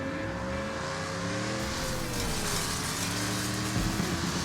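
A race car engine in the demolition racing game Wreckfest drones and revs steadily, with rising and falling pitch sweeps, loud and close, alone with no voices.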